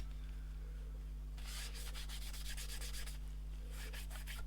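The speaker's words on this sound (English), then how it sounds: "I do wipe over the label." A cloth rubbing over the label of a Nintendo NES cartridge, a close scratchy swishing in quick back-and-forth strokes over a low steady hum.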